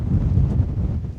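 Wind gusting across a winter hilltop on Rannerdale Knotts above Buttermere in the Lake District, a steady low rumbling buffet against the microphone with slight surges and no speech.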